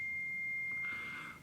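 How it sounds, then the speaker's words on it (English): A mobile phone notification sounds as a single clear, steady beep lasting just over a second, close and distinct over a quiet room. "That was my phone."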